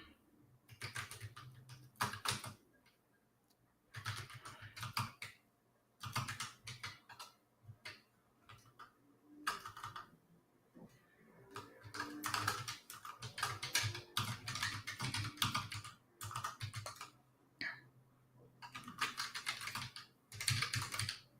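Computer keyboard typing during a pair programming session, coming in close rapid bursts of keystrokes separated by short pauses, with a faint steady low hum underneath.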